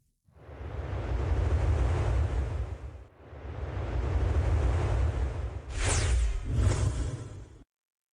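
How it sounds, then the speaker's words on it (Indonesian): Strong wind roars with rushing sea waves in long swelling gusts, three broad surges of loud broadband noise, the last one with a sharper whooshing edge. "Tapi, suara angin ini terasa aneh banget."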